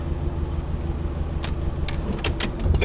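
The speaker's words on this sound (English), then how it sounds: "The car is starting." A Mercedes-Benz car with its check engine and tire pressure lights on starts up nearby: a low idle rumble, then a few sharp mechanical clicks and whirs followed by the engine catching and swelling at the end.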